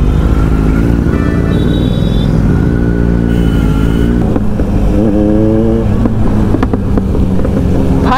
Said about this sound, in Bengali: ভাই দুটো বাইকে ফাটাকা দিচ্ছে দেখো